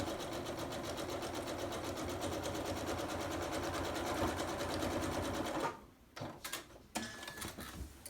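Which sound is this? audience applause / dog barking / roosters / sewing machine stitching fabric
sewing machine stitching fabric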